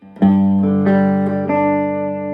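An electric guitar strums a few bright, sustained chords through a 1980s Vox Escort amplifier on its bright channel, each ringing out clean and trebly, up close.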